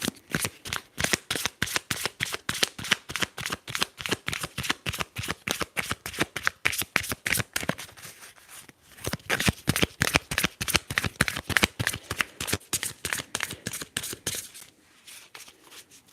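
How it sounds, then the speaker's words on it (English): A deck of tarot cards is shuffled in quick, crisp riffling bursts close to the ear, soft and steady, with a short pause partway through and no talking over it. "let's shuffle"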